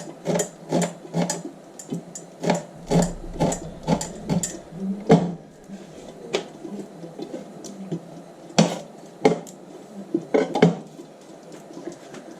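A knife chops fresh coriander on a cutting board, a quick run of sharp, close taps in bursts with short pauses between them.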